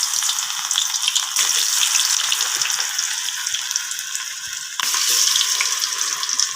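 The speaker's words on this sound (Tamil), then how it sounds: "இப்போ நாம் காலிஃப்ளவர் பகோடா போட்டுக்கலாம்." Cauliflower pakoda frying in hot oil, a steady loud sizzle and crackle with no talk, briefly dipping and then swelling again as more batter goes in.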